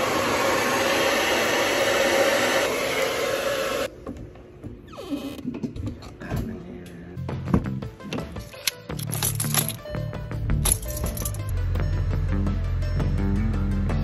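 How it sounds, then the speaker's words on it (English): A hair dryer blowing during a morning hair routine, a loud steady whooshing roar close by for a few seconds before it cuts off, followed by clattering and handling noises. "And then we use our handy dandy hair dryer."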